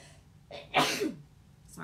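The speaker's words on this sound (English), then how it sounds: "Oh, guys, I gotta sneeze." A single close sneeze, a short inhale followed by a sharp burst, in a quiet room.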